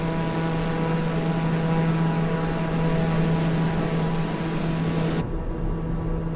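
A TBM850 turboprop engine drones in a flight simulator game, a steady even propeller hum with a constant tonal whine that holds throughout, alone without voices.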